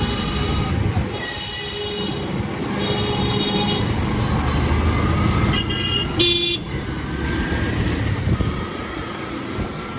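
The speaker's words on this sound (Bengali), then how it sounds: "খুলনা শহরে জ্যামের পরিমাণ একটু বেশি বেশি হচ্ছে" Night traffic jam on a Khulna city street: a steady rumble of idling and creeping vehicles with repeated car horns honking, several short toots and one louder close blast.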